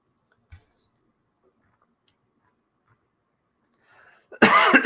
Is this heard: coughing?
yes